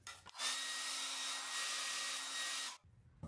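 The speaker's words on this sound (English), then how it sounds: "Make sure you hit it with a blow dryer." A blow dryer runs steadily for a few seconds while drying a foil transfer on a gazing ball at close range, a loud broadband whoosh with a faint whine that starts and stops abruptly, with no talking.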